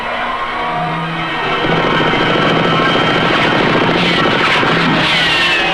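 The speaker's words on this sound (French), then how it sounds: "Des avions! Ils se préparent à attaquer, mais ils ne peuvent pas me voir." Several aircraft circle and swoop overhead in a 1966 Captain America cartoon, a loud, continuous engine drone with rising and falling pitch that swells as the planes pass close, backed by busy cartoon soundtrack layers.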